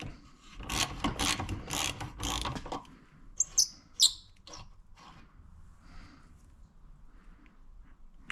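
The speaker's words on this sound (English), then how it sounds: "see if it'll come out with just a regular socket." A ratchet turns a regular socket on a fastener of a 1939 Dodge sedan, giving a few seconds of rapid close clicking followed by sparse metallic taps and faint handling.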